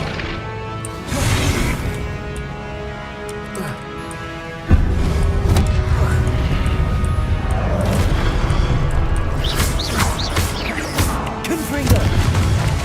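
Confringo fire blast spells from Hogwarts Legacy, loud booming blasts with a crashing impact, one heavy burst partway through followed by continued rumbling and crackling; a voice speaks over it.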